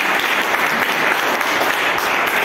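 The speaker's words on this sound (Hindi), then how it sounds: "बजाओ तालियां इस बात के लिए" A dense burst of audience applause, many hands clapping together steadily and fairly close, filling the whole short moment.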